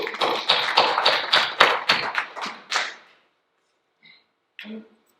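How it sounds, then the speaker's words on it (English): A small audience applauds a guest speaker named Deb at a Presbyterian church grief class: about three seconds of uneven clapping that stops abruptly, followed by near silence and a couple of faint knocks. "Let's put our hands together for you"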